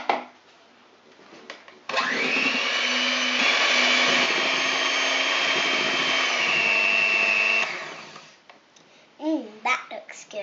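An electric mixer beats vanilla cupcake icing in a steady, loud whir lasting about six seconds before stopping, with a voice heard faintly before it and more clearly after.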